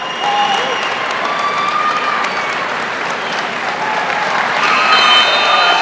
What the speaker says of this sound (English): There's the Jackson crowd. Stands and applause.